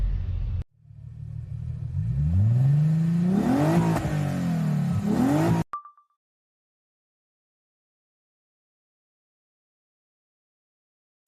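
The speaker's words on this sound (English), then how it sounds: "a speeding vehicle that changed everything in under 2 seconds" A speeding vehicle roars past outside a wedding venue in Sirsa, Haryana, at evening, its engine rising in pitch as it closes in, loud and whining. The sound then cuts off abruptly into silence.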